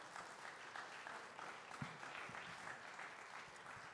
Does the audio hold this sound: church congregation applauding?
yes